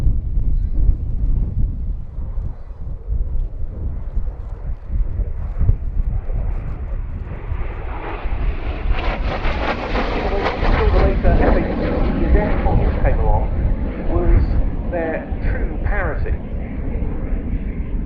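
Vintage Vampire FB.II and Sabre Mk.6 jets flying together at a Duxford airshow, a steady roar that swells to a louder pass midway then holds, with wind buffeting the microphone and voices under it.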